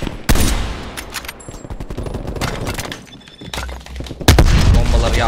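Automatic gunfire in Call of Duty Cold War multiplayer, loud, near bursts of rapid shots and heavy thumps spread across the clip, ending in a strong burst.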